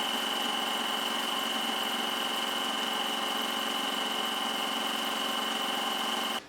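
A sewing machine stitches the side seam of a zip-front pencil skirt, giving a close, steady motor whir that runs unbroken and alone before cutting off right at the end.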